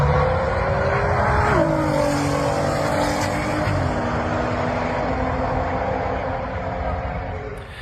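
BMW M140i at a drag racing event in Breda, engine revving hard through gear shifts as it accelerates away, loud at first then fading slightly toward the end.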